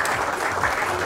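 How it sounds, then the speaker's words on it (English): Audience applause for a test match team captain being introduced at an event, a steady dense patter of clapping lasting about a second with faint voices mixed in. "Round of applause, please, ladies and gentlemen."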